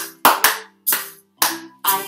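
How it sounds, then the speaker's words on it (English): Hands clapping along to a children's nursery rhyme, five sharp claps in an uneven rhythm, close and clear with short gaps between them. "I can clap my hands,"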